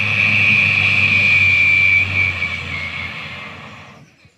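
A voice imitates a rocket taking off, performed as mimicry for children: a loud, sustained rushing roar with a steady high whistle that holds, then fades over about four seconds and ends alone.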